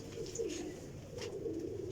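Pigeons coo softly in a short burst of low, throaty calls, a couple of faint chirps above them, heard fairly close amid quiet surroundings.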